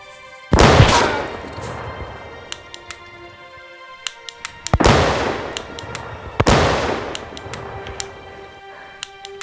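Gunfire in an action movie set around Confederate soldiers: three heavy, booming shots with long echoing tails, spaced a few seconds apart, with sharp metallic clicks and small pops scattered between them.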